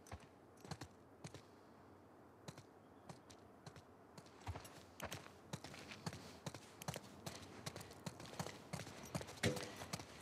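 Horse hooves clip-clopping on ground in The Last of Us Part II, a quiet, uneven series of sharp knocks that grows busier and denser toward the end.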